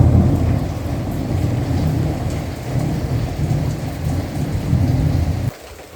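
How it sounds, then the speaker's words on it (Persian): Steady rain with rumbling thunder, heard from inside a room, a dense low roar and patter that continues for several seconds before dropping off abruptly near the end. "اومده بارون رو از تو اتاق تماشا کنه."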